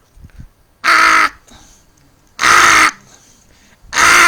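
A crow caws loudly and close by, three long harsh calls spaced about evenly, each roughly half a second, with faint background sounds between them.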